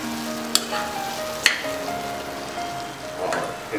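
Potatoes in masala with Kashmiri red chili powder fried and stirred in a pan, an even crackling sizzle with a few sharp spatula clacks against the metal, close by.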